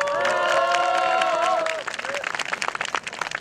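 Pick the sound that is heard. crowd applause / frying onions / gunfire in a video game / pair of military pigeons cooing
crowd applause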